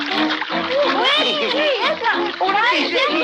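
Water splashes in a radio drama as a character swims, propelled by its tail, a busy churning splatter running under animated voices throughout.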